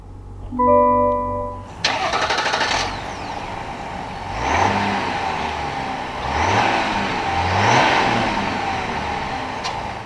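A 2023 Chevrolet Tahoe RST with the Duramax engine is started after a few soft electronic chimes. It cranks, catches, and settles into a loud, steady idle with gentle rises in revs, heard close with no talking.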